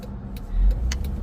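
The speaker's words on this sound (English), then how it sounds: "I gotta wait for cars to go by" A car passes along a road close by, a short low engine and tyre rumble swelling and fading within about a second.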